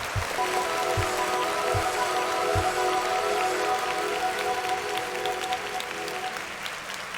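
A crowd claps in tribute to a late rapper, a sustained wash of applause with a faint tonal hum and a few low thumps early on, gradually easing toward the end.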